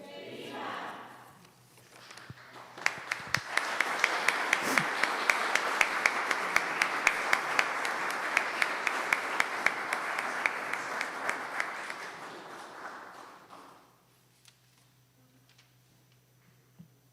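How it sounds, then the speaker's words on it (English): Audience applause following a church play about Our Lady of Guadalupe, a dense, steady wash of many hands clapping that swells in, holds loud for about ten seconds, then fades out to near silence. "another round of applause for them"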